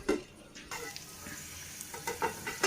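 A ladle stirring capsicum egg curry in a pan, soft scraping strokes at an unhurried rhythm over a faint continuous sizzle, close and clear with no talking.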